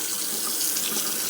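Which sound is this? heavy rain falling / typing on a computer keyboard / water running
water running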